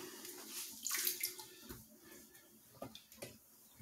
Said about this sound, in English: Oh, cold water. Just let it spray.